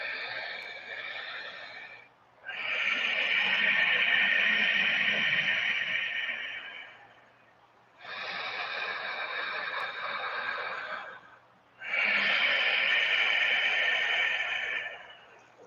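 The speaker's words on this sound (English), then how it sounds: "So the Ujjayi breath will sound something like this." Ujjayi yogic breathing, slow audible ocean-like breaths through a constricted throat, heard in three long drawn-out inhales and exhales with brief pauses between, close to the microphone and alone.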